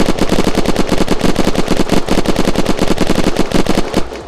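Rapid automatic gunfire from the video game Unturned, aimed at a black metal base wall: a loud, continuous stream of evenly spaced shots lasting about four seconds before stopping abruptly.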